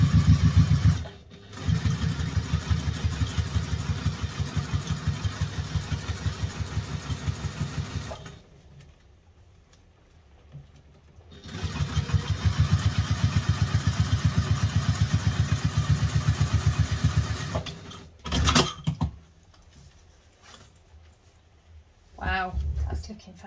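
A sewing machine top stitching a cross body organizer bag with a lengthened stitch, running in a fast, steady chatter in two long bursts separated by pauses, with a short final run.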